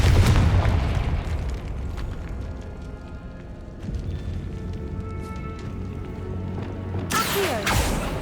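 A Confringo blasting spell explodes in Hogwarts Legacy, a heavy low boom opening the moment and rumbling on, followed later by a sharp bright burst near the end amid game ambience.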